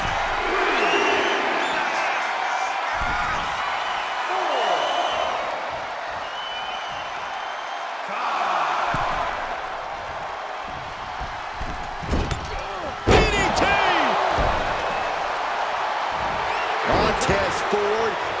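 A large wrestling arena crowd at a televised Raw event cheers and roars in swelling waves, with sharp ring slams and impacts cutting through and an excited commentator talking over it throughout.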